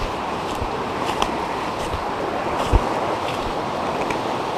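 A river rushing hard along a trout stream, a steady broad roar of water with a few soft knocks and wind buffets, close and continuous, no talking.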